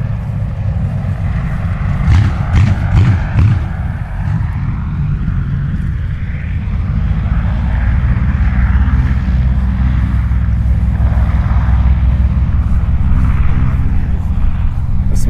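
An Antonov An-2 biplane's propeller engine drones steadily at close range as it taxis toward the runway at an airfield air show, with a louder rumbling stretch early on, no speech.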